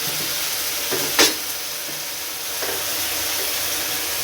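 Ginger-garlic paste fries in a pan for a chickpea curry, giving a steady close sizzle and hiss with a few stirring scrapes, continuous and without talk.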